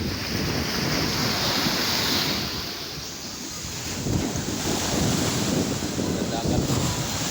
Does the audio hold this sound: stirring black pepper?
no